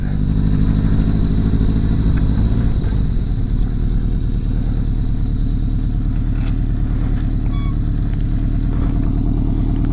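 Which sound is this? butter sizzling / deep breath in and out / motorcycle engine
motorcycle engine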